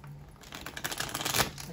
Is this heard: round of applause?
no